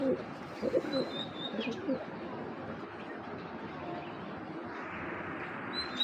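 A pair of military-breed giribaj high-flyer pigeons coo softly close by, low throaty burbles with a few faint chirps over quiet room background.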